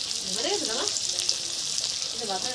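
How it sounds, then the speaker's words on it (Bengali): Tomatoes frying with salt for an egg curry hiss steadily at close range, with a voice briefly heard over the sizzle. "টমেটো একসাথে একসাথে কটা ভেজে নেবো"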